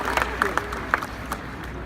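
Crowd of Crimson Tide fans at an Alabama national championship parade, scattered claps and cheers rising in brief bursts over a steady outdoor murmur, a voice talking over them.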